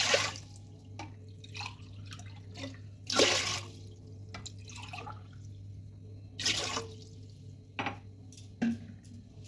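Water poured cup by cup into a cooking pot for momo soup: a few short, faint splashy pours with scattered drips between them, over a low steady background hum.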